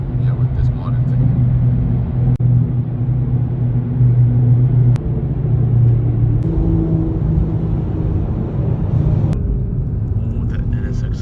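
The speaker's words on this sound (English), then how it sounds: "Oh, that NSX sounds really good actually." A Honda NSX engine rumbles and whirs steadily at close range near the Nismo Factory, a sustained low drone with a few sharp clicks, while voices talk over it.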